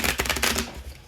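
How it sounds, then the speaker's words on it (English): Tarot cards shuffled by hand give a brief, close riffling rustle with a few quick soft slaps, over roughly a second with no talking. "Let's go ahead and shuffle."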